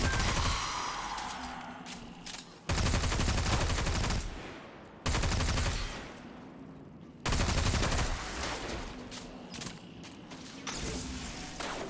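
Sustained automatic gunfire rattles nearly nonstop in the Destiny 2 lost sector The Empty Tank, in loud dense bursts broken by brief pauses, with mechanical clicks of reloading between them.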